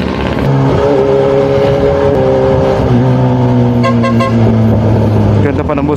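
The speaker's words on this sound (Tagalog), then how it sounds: "Ganda pa ng busina ko." A vehicle horn honks in sustained loud tones over a busy road din of engines and traffic, heard up close while riding.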